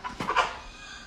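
A young rooster gives a few short, close clucks in quick succession within the first half second, then the sound fades into quiet background noise.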